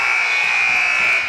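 A basketball game buzzer blares at the end of a quarter in a high school boys' game between Merrimack and Nashua South, one loud, steady, unbroken buzz that holds for over a second with no speech over it.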